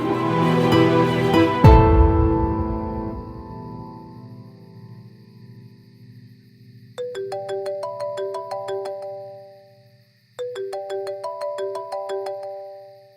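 A phone ringtone for an incoming call plays in a short melodic burst, pauses, and then repeats as a second identical burst. It comes in after a fading musical passage and is close, clear and alone.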